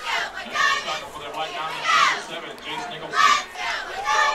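High school football crowd at a Sallisaw Black Diamonds vs. Hilldale Hornets game, a steady roar of many voices swelling in waves at full strength, with shouts rising above the mass.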